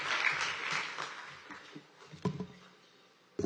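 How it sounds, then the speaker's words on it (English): An audience applauds at a New York State affordable housing conference, a burst of many hands clapping that swells briefly and then fades out, followed by a few scattered thumps and knocks in a quiet room. "direct that applause to the woman who just spoke"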